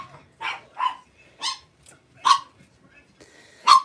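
A small dog yaps in short, sharp barks, about six in under four seconds at an uneven rhythm, close and clear against a quiet room.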